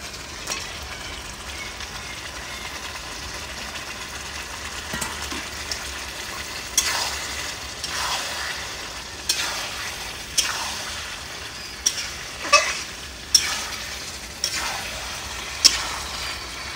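Chicken and potatoes fry in a pan for a village-style chicken curry, giving a continuous sizzle broken by repeated scraping stirs that grow more frequent and louder toward the end, with no talk.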